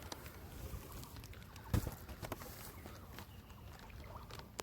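Rain patters on an umbrella beside a river, a steady dense pattering with a single sharp tap partway through and no voices.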